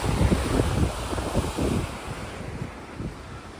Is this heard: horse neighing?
no